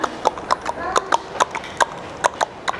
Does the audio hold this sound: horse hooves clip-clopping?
yes